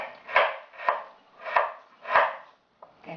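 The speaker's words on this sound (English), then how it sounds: "my food processor, cut onion." A food processor chops onion, garlic and ginger in a steady run of five loud pulsed bursts, about half a second apart and each separated by a brief gap, with no voices.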